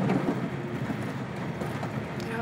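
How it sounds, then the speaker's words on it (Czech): A passenger train rides along rails in a steady, fairly faint rumbling wash of wheel and track noise with light windy texture. "Tenhle vlak taky není špatný."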